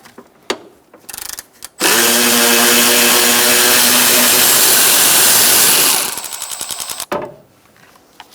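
A power tool with a 10mm socket spins a nut off a stud on a 2004-2009 Mazda 3 during brake master cylinder work: a few short bursts, then a loud, sustained close-up whir, followed by rapid ratcheting rattles.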